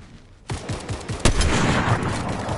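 Hunting rifle fire in a video game, a loud sharp report followed by a dense rolling clatter of further shots and impacts, close and continuous, with no talking over it.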